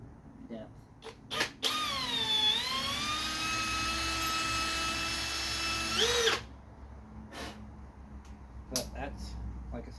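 A drill bores holes into a Chevy engine block on a 1963 Impala, mounting a power steering pump: one loud, sustained whine of about four seconds that dips in pitch under load, then spins back up and stops, with shop noise before and after.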